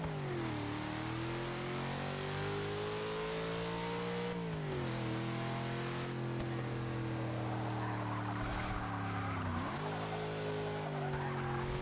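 A 1997 Land Rover Defender 90 in the racing game Forza 6, its engine droning loudly and steadily with pitch dips as it shifts and revs, tires squealing and skidding through corners.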